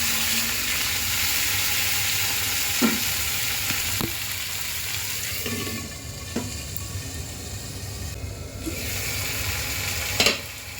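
Tomatoes and spices frying in a pan while making palak paneer, a steady close sizzle running throughout with a few sharp clinks of a stirring utensil against the pan.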